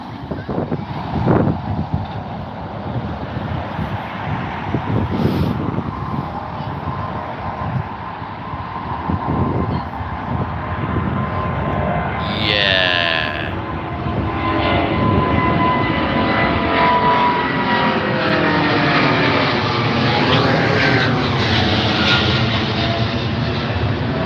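A large airliner rolls along the runway at Heathrow, a loud, sustained roar of jet engines with rising whine and wind buffeting the microphone throughout.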